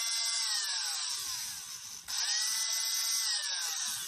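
A homemade mini drill runs on a test with a steady high-pitched whine, briefly dipping and rising again midway, loud and close with no talking.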